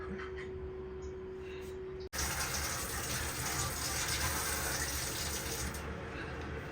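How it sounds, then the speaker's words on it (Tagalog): Water gushes from a tap into a sink or pot to be boiled, a steady loud rushing stream that starts abruptly after a quieter moment and runs on without a break. "Papakulo muna tayo ng water."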